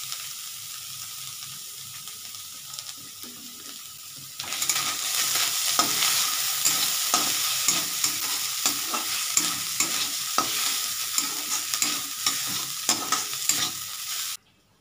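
Whole spices including cardamom sizzle in mustard oil while being stirred continuously, a quieter hiss suddenly jumping to loud, dense crackling frying with rhythmic scraping strokes, close up and without voices, then cutting off at the end.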